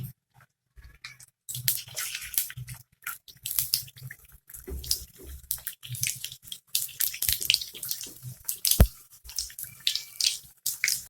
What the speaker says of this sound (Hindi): अब इसके अंदर मैं समोसे डालूंगी। बिस्मिल्लाहिर्रहमानिर्रहीम। दो दो करके फ्राई करूंगी।